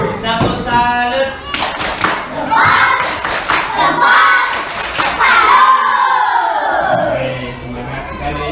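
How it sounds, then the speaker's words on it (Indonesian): Schoolchildren in a classroom performing the 'tepuk salut' clapping routine, rhythmic group claps in bursts mixed with chanted voices and shouts, loud and close. "Tepuk salut."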